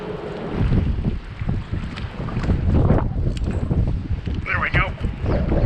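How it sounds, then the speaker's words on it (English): Strong wind gusting over a small fishing boat anchored by pilings, a steady roaring buffet of air with water slapping beneath, continuous and close with no voices. "A little windier than I thought."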